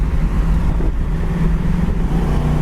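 A 1979 Pontiac Trans Am under way on the road gives a steady, loud engine drone from inside the car, mixed with heavy rushing wind noise throughout.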